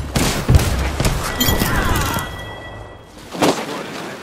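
Rapid bursts of video game gunfire crack over a busy layered soundscape, with a dense volley early on and another loud burst near the end, alongside other in-game effects.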